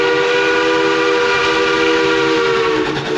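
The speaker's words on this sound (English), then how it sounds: "I see a train, a steam train, back to my era." A Silverton steam train near Durango on a warm, clear day, heard as a loud, steady mechanical roar with sustained whistle-like tones running through the whole stretch, close by and without talk.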